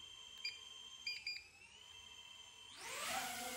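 DJI Avata 2 drone motors spin up with a rising whine that swells from near silence into a loud, broad whirring roar near the end, after a few faint beeps.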